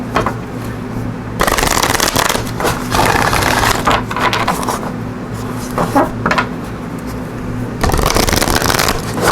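An Enchanted Map oracle deck is shuffled up close, its cards riffling and slapping in steady bursts with short pauses, loud and continuous with no voices.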